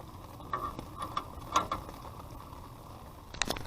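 A torque wrench ratchets on a passenger peg bolt of a 2018 Harley-Davidson 883 Iron, giving a few short, close clicks spaced apart over a low background, with no talking.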